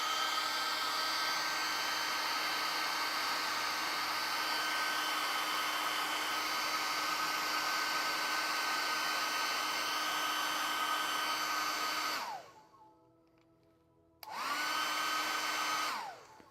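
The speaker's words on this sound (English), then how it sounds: "I'm going to hit him with the hairdryer." A hairdryer blows steadily on a freshly painted tiny miniature figure, loud and close. It cuts off briefly near the end, then whines back up to full speed.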